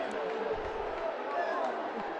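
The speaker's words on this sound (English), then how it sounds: "Crowd don't like it." Rugby league crowd at a Halifax Panthers away match groaning and jeering in disapproval, a steady dense wash of many voices without pause, fairly loud and continuous throughout.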